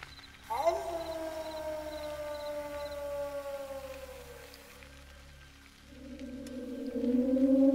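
Cartoon jackal howl in the distance, a long wavering tone that slowly falls and fades, then a second howl rises toward the end over a low hum.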